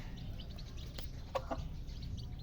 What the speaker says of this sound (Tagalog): Mga manok namin. Ito sila. Kumakain pa sila ata eh.